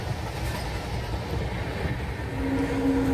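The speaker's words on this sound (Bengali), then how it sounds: "আর আমাদের ট্রেন মোটামুটি 90 থেকে 100 এই স্পিড মেনটেন করেই সামনের দিকে এগিয়ে যাচ্ছে।" Kanchankanya Express (13149 Up from Sealdah) cruising at around 90 to 100 km/h: a steady, loud rolling rumble of wheels and carriage, with a thin sustained whine rising near the end.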